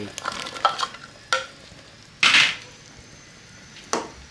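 Carrots and onions hit a hot pot for beef stew over low to medium heat, with a short crackling sizzle, a few sharp clanks, and a loud burst of frying hiss near the middle.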